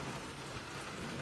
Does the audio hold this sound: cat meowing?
no